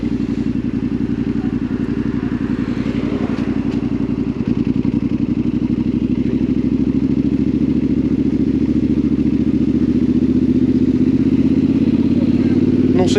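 A Yamaha Tenere 700 Rally motorcycle ridden on national roads, its engine a steady, loud, droning rumble with wind and road noise, running continuously throughout while a rider speaks over it.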